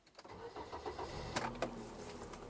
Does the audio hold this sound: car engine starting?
yes